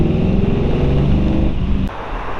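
1938 Ford two-door bustle back sedan retro-rod with a flathead V8 pulling away in second gear, a close, steady engine rumble that drops slightly in level near the end.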